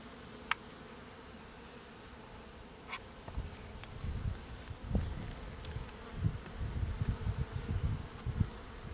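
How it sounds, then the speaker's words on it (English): Honey bees buzz in a small hive during an inspection, a low droning hum that swells and flutters louder after a few seconds, with occasional sharp clicks. "There's quite a few bees in here"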